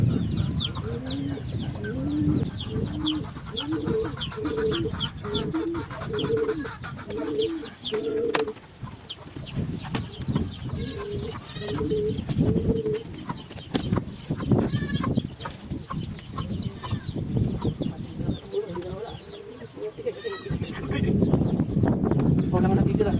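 Pigeons in a loft coo and flutter in a continuous chorus with rhythmic repeated calls, while someone talks throughout nearby.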